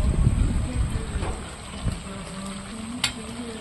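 Green chillies go into bottle gourd frying in a wok, bringing a loud burst of sizzling and stirring that settles into a steady, quieter fry with a few sharp clinks of utensil against the pan.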